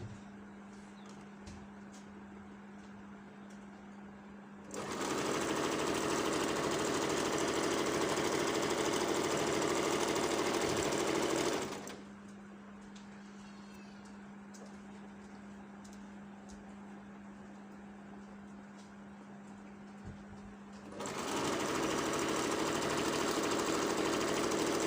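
A sewing machine stitches fabric pieces together for a Papua New Guinea meri blouse. Two runs of steady motor whirring, of about seven and four seconds, rise over a low, quiet hum.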